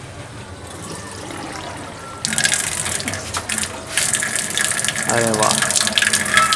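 Submerged replacement pump in an air cooler switched on, water gushing and splashing out of the pipes in a steady close stream, with a brief spoken exclamation over it.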